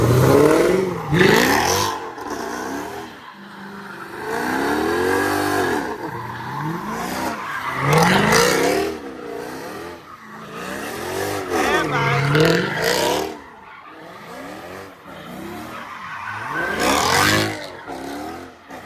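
A Mercedes C63 engine roars and revs in repeated surges while tires squeal and skid doing donuts, loud and close, with voices audible in between.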